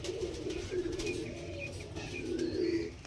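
Lal shira pigeons cooing close by, soft repeated throaty coos overlapping in a steady murmur with a few faint chirps behind.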